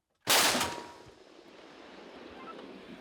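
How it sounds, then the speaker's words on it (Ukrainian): A single heavy tank cannon shot bursts out with a sharp onset, then rolls away into a long, fading rumble. No voices are heard. "Вогонь! Постріл!"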